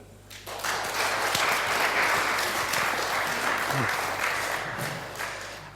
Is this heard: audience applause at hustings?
yes